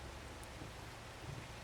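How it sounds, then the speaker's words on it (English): Steady rain falls in the farming video game Farming Simulator 25 as a constant, even hiss of dense noise with no voices over it. "now we gotta speed up through the rain because rain's a pain in the neck"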